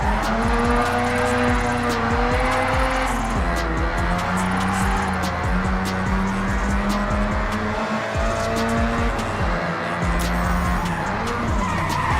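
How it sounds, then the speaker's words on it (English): In Forza Horizon's Tokyo City streets, a car engine roars continuously while the tires squeal and skid through drifting turns, loud and sustained throughout with shifting pitch as the car slides. "With style, it's just skidding."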